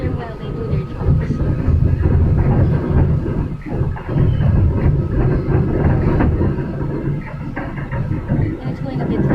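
An MRT-3 metro train runs along its line, heard from inside a carriage: a loud continuous rumble with rattling and rail clatter, rising and falling slightly as it moves, with some voices mixed in.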